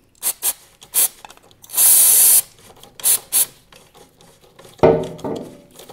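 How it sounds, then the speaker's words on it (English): Brake cleaner sprayed onto motorcycle brake disc bobbins, a single sustained hiss of about half a second among short close clicks and taps, then a louder clunk near the end. "just squirt away with the brake cleaner"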